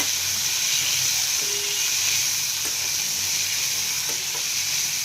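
Chickpeas go into a pan of frying garlic over medium heat for a dry chickpea curry. A steady, close hiss of sizzling oil continues throughout, with a few faint stirring knocks.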